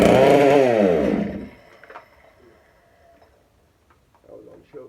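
A Farmertec 460 kit chainsaw with a homemade port fires on choke, revving loudly for about a second and a half before winding down and dying, followed by quiet clicks and faint handling noise.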